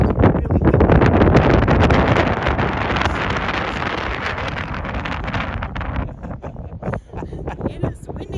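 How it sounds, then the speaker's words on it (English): Strong wind gusts buffet a hilltop in a loud, continuous rush that eases after a few seconds into lighter, intermittent blowing, with faint voices underneath. "It is windy up here today."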